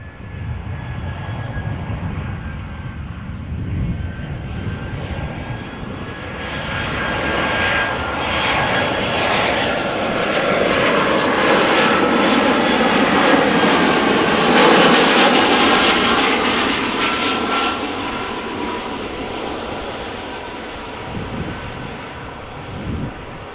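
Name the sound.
Iberia Express Airbus A320 arriving at Amsterdam Schiphol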